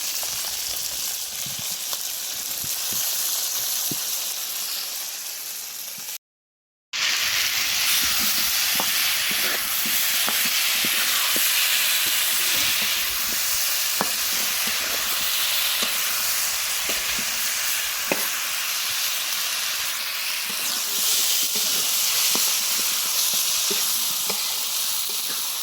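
Food sautéing in a pan, a loud continuous sizzle and hiss with scattered stirring clicks, broken by one brief silent gap.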